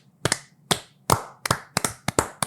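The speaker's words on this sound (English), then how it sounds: "And slow clap for the audience" About nine sharp hand claps in a slow, slightly uneven rhythm, close and dry with short gaps between them, no voices.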